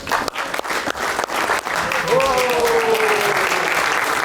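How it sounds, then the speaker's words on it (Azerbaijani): An audience applauds at the close of a comedy concert show: dense, steady clapping from a crowd fills the whole stretch, with a voice briefly rising over it partway through. "Alqışlayaq, alqışlayaq"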